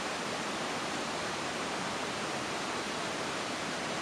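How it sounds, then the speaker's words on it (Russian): A mountain river in autumn, in Tennessee, rushes steadily in the distance as an even, unbroken wash of broadband noise with no voices. "И река осталась тоже в стороне. Только шум остался."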